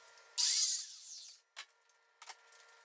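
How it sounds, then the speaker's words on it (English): A compound miter saw makes a 45-degree cut through MDF baseboard for board and batten trim: one short, loud, shrill cutting burst that winds down, followed by a couple of faint clicks and knocks. "So I'm using my compound miter saw and making here the 45-degree angle cuts"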